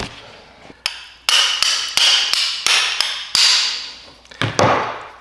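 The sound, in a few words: hammer tapping a bracket to loosen a bolt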